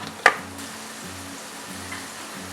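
Ghee and oil heating in a kadai give a soft, steady sizzle with a low hum beneath, broken early by one sharp clink, fairly quiet and with no talk.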